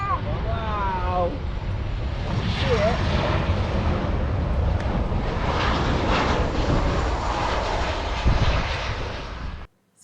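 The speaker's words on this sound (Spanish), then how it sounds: "pudimos grabar un avión aterrizando a tan solo unos metros de nosotros" A plane lands just metres away in Derby, giving a loud, steady roar and rumble that holds for about ten seconds and then cuts off sharply. Voices are heard over the engine noise near the start.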